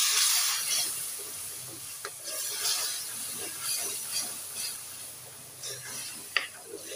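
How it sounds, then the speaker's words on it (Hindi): Tomato and onion chutney fries over high heat in a pan, a steady close sizzle and hiss with occasional stirring scrapes and small pops. "इसे तेज़ आंच पे ज़रा भून लें आप पहले"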